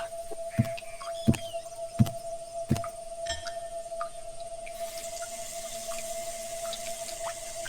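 Tap water runs while someone washes their face, low and steady under a constant hum, with a few dull thumps early on before the flow grows hissier.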